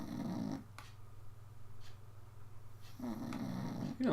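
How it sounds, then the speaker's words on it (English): A dog snoring nearby in a quiet room, with a long rumbling breath at the start and another building toward the end, steady low droning between. "He's right back to snoring 2 seconds later"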